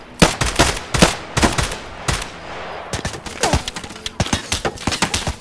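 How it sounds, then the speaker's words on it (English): Gunfire in the Escape From Tarkov video game comes in close, loud bursts of sharp shots, a dense volley, a brief pause, then another rapid string of shots. "Oh, I'm getting shot by someone else here, bro."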